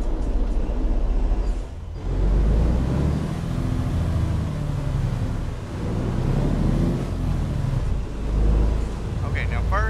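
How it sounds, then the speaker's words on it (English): A Freightliner truck engine in American Truck Simulator drones low and strains steadily under load, a continuous heavy rumble with gentle swells throughout, no talk over it. "you hear how it sounds like it's straining? This truck is straining when it does that?"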